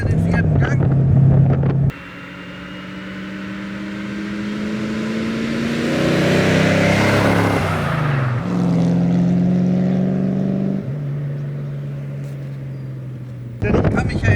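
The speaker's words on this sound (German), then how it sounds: "Man hört den 8-Zylinder donnern." A BMW 507 with its V8 engine roars and drones steadily while driving, pitch shifting with a gear change midway, loud and close with wind noise, and someone talks briefly at the start and end.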